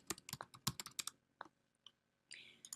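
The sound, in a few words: typing a search on a computer keyboard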